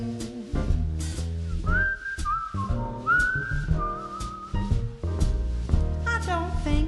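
A person whistles a short tune inside a jazz song, the clear melodic whistle running over piano, bass and drums played by a quintet, with no singing under it.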